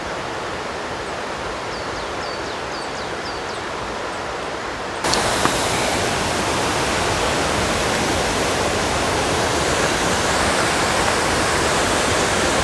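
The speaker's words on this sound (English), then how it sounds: "We are definitely at the waterfall now." Alpine waterfall near Obergailersee in the Austrian Alps, a steady broadband rush of falling water that swells noticeably louder midway as it comes closer, with faint birdsong above it at first.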